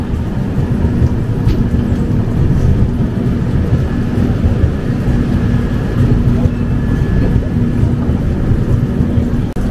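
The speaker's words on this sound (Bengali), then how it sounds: "ট্রেন ঢুকছে মালদা।" A Kolkata–Dibrugarh summer special train rolling into Malda station, a loud continuous low rumble with steady rail drone and a faint tonal whine throughout.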